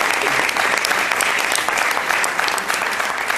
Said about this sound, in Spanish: un fort aplaudiment perquè tenim els subcampions del món amb nosaltres